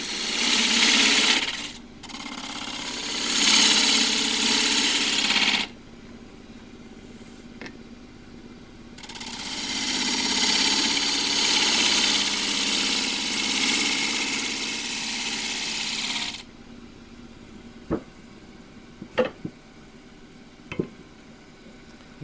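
A wood lathe spins a picture frame blank while a skew chisel shears across it, giving loud broadband cutting rasps in long sustained bursts over a steady motor hum, with quieter gaps and a few sharp knocks near the end.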